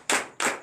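Two sharp claps close by with a brief reverberant tail, from a congregation clapping for Jesus at a night deliverance and prophecy service, a third starting at the very end.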